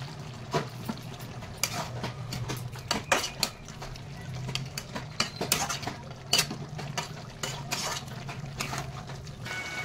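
A spoon stirs a spiced bhetki fish bone curry in a pan, with scattered scraping clinks of metal on the pan over a low frying hiss, close and continuous with no voices.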